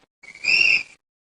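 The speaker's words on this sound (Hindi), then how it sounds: "सबसे पहले टीम बी ने सीटी बजाई थी।" A quiz team's whistle blown once to answer at a school quiz competition, a single shrill, steady blast lasting under a second, loud and alone with no talk around it.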